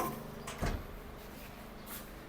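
A door in a quiet house shuts with one short, muffled thud, close by against a faint room hush.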